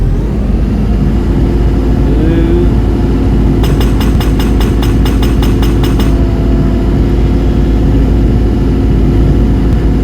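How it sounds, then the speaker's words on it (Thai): Excavator engine revving in Farming Simulator 22 while breaking rock in a cave: a steady loud low engine drone throughout, with a burst of rapid rhythmic hammering clicks in the middle. "มันต้องเร่งเครื่องก่อน"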